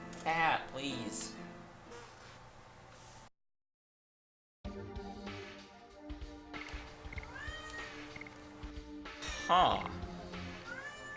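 A cat meows several times close by, with short mewing calls scattered among ongoing talk and background game sounds, broken by a brief stretch of silence.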